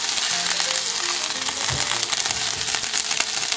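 A pork steak fries in a pan with a steady, dense, crackling sizzle, loud and close throughout, with a few soft knocks partway through.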